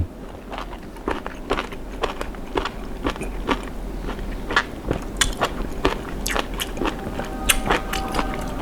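Someone chews a bite of jellyfish salad with sesame oil and spicy seafood dip, making close, wet, crunchy chomps and crackles in an uneven steady rhythm with no talk over them.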